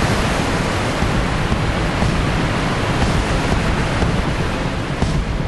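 Crashing flood water surges as an anime sound effect, a loud, dense, unbroken roar of churning waves that holds steady throughout, with no voices over it.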